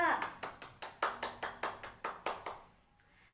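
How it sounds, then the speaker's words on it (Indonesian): A classroom group claps in unison for two student groups, about a dozen sharp, evenly spaced claps in a steady rhythm that stop abruptly, close and bright, with no talking over them. "Tepuk tangan untuk kelompok 1 dan kelompok 2"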